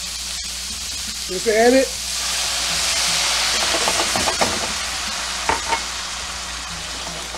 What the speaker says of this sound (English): to further deglaze this, we're going to add our red wine, our red cooking wine